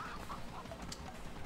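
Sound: chicken clucking in the video game Moving Out

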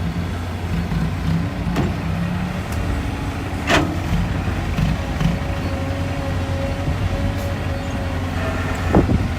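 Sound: excavators working at a dirt site

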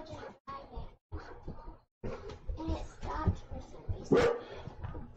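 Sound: dog barking at a car on the road

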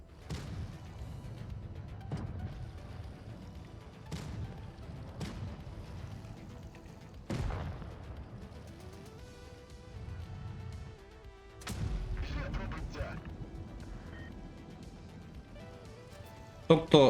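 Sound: tank cannon shots in video game WoT Blitz

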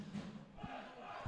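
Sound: home football crowd cheering

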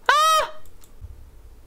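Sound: chickens clucking in The Sims 4 video game

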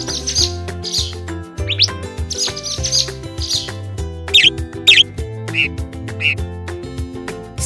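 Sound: sparrow chirping

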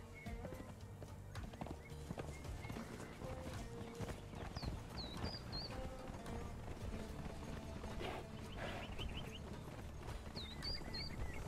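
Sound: horses in the video game Conan Exiles

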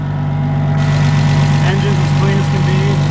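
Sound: Komatsu FG45 pneumatic tire forklift engine idling

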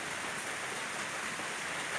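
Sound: heavy rain falling

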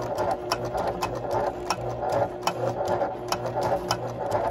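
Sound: sewing machine stitching leather for clogs

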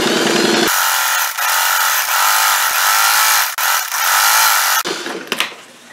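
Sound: sewing machine stitching tote bag strap

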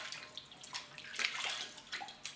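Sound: rinsing off face cleanser with warm running water

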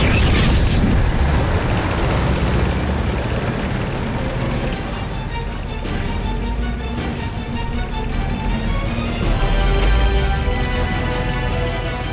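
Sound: explosion blowing up a bridge, war drama

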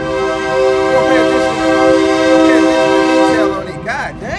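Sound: train passing with horn

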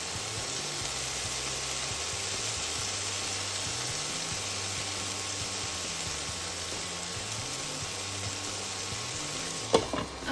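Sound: chicken leg pieces frying with roasted spice mix

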